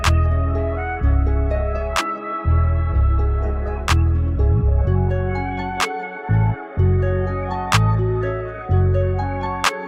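Clap drum samples in a dark guitar beat made in FL Studio, repeating on a steady loop over sustained bass and guitar-like tones, loud and rhythmic with no talking.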